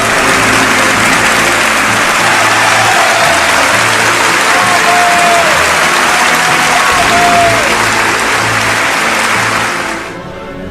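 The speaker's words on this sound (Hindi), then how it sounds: "बेहद भावुक दिख रहे चार्ली के सम्मान में 12 मिनट तक तालियां बजती रहीं" Prolonged ovation from the audience for Charlie Chaplin at the 1972 Oscar ceremony, loud and continuous massed clapping filling the room, with faint tonal sounds beneath, before the applause drops away abruptly near the end.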